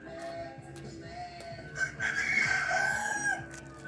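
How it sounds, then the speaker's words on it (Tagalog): A rooster crows on a mountainside, its call rising in the middle of the clip at moderate distance over quiet outdoor background noise. "May manok pa."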